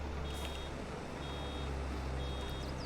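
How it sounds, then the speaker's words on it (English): Incessant warning beeps from a baler in Farming Simulator 22, a steady repeating electronic tone over a continuous low engine hum, moderately quiet and unbroken, with no talking. "which means we're going to end up with beeping incessantly"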